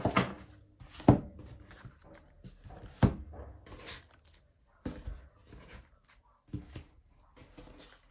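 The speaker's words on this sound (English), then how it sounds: "let's start with shuffling." Quiet, irregular papery taps and slaps of tarot cards being handled and shuffled, with a few sharper clicks spaced a second or two apart.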